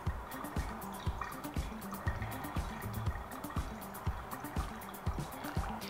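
Coffee drips through a pour-over filter in a quiet, regular rhythm of soft liquid plops about twice a second, close by, with no talking.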